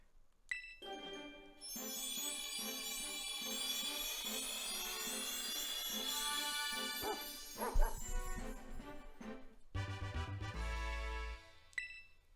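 A dog-type Pokémon's cry in Pokémon Violet: a bright synthesized bark-like call with ringing tones, followed by a short chiming jingle and a second clipped yelp near the end, loud and close with no talk.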